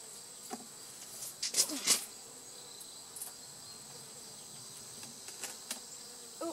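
Honey bees swarming around an opened hive before a honey harvest, a faint steady buzz broken by a few sharp, louder bursts as insects pass close by.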